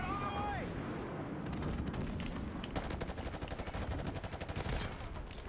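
Rapid automatic gunfire and bursts of shots in the online multiplayer video game Call of Duty Modern Warfare, clattering in a dense rhythmic stream that grows in the latter half, with a voice faintly present.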